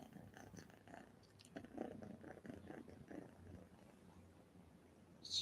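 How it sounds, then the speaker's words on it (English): A cat purrs softly and steadily, close by and faint, with a continuous low rumbling rhythm and no talking. "Do you hear the purring?"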